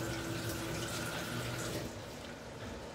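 Water pours steadily from a tap onto freshly washed food for lamb preparation in a kitchen, a continuous close splashing rush that eases slightly toward the end.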